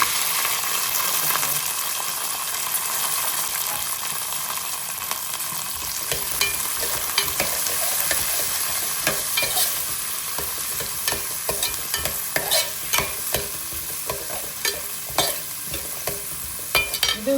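Fennel seeds, curry leaves and shallots sizzle steadily in a hot pan, with a continuous frying hiss and scraping stirs that grow more frequent and clatter-like in the second half.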